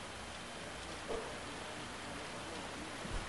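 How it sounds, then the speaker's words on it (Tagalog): Continuous heavy rain pours down during flooding at a hospital compound in Sta. Mesa, Manila, as a dense, steady hiss with no pauses and a few faint thuds. "Yung parang patuloy pa rin yung pagbuhos ng ulan dito"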